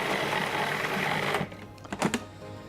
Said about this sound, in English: Now blend that together so you've got a nice smooth sauce.